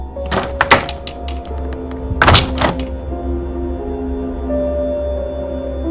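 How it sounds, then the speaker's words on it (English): A window is shut with a couple of sharp thuds and rattles, followed by a steady low hum. "Marshall went over to close the window."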